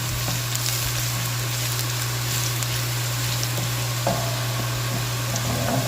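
Garlic sautéing in a pan, with ginger already in, ahead of the onions: a steady broadband sizzle and crackle with a constant low hum underneath, a few faint stirring knocks, no voices.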